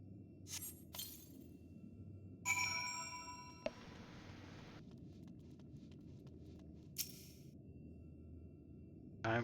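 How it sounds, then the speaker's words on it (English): Phone chiming as it connects to a charger, heard over a game's background ambience: a few short bright electronic tones and pings spaced across the stretch, fairly faint, with no talk. "You can hear a badoop. So my phone connects to charge."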